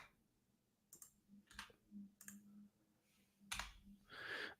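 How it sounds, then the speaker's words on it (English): A computer keyboard being typed on produces a handful of sparse, crisp clicks in irregular bursts over a low steady hum, close by and fairly quiet, with no voices. "I am typing these bad boys in."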